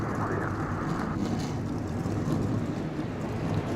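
A field of 41 race cars in NASCAR Racing 2003 rolls off the starting grid at Daytona, producing a faint, steady wash of engine drone with no distinct individual car passes.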